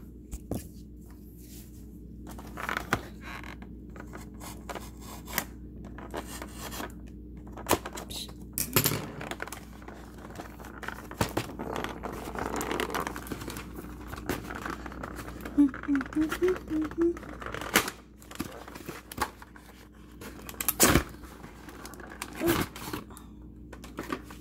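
An Oregon Trail electronic handheld game is unboxed close up: cardboard flaps and plastic wrap tap, crinkle and rustle in scattered bursts while a person talks quietly throughout.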